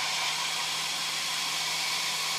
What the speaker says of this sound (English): The technique is good old fashioned hairdryer.